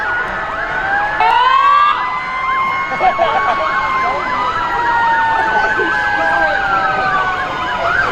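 A New Haven City Fire Department vehicle sounds its siren during a festival parade, several wailing and yelping tones overlapping loudly and steadily throughout, with faint crowd and traffic noise underneath and no one speaking.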